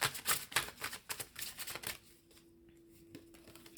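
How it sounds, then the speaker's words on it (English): Tarot cards riffled and shuffled by hand in a quiet room, a quick run of crisp papery flutters and snaps for about two seconds, then a near-silent stretch with one soft tap. "Give me a second. Let me shuffle."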